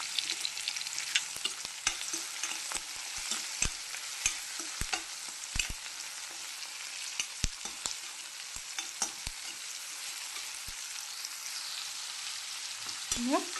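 Tomato and onion fry in a pan for a crab sukka masala, a continuous close sizzle broken by frequent sharp clicks and taps of a spoon against the pan.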